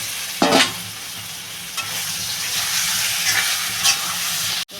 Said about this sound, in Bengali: কচুটা ঢেলে দিলাম